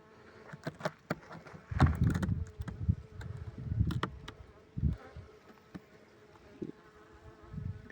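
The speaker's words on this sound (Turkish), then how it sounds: "sarıca eşek arısı da içerisinde bu kovanımızı tamamıyla bitirmişler" Yellow hornets buzz inside a robbed, emptied beehive, close intermittent droning bursts as insects fly about, with short quiet gaps between them.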